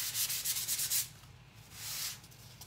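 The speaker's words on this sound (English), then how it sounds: "if you have an electric sander and you want a little bit heavier of a distressing, then you can definitely hit it with the electric sander" Painted wood being distressed with an electric sander gives a close, steady abrasive rasp with a low motor hum beneath it, pulsing at first and then smoothing into a longer even scrub.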